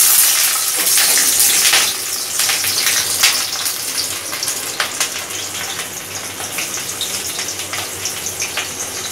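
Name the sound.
vegetables frying in hot oil for chowmein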